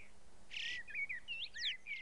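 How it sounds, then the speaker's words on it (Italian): A pair of common ravens in the Alps gives soft, high chirping and warbling calls in short bursts, quiet against a calm background. "Due corvi imperiali sono in vena di tenerezze."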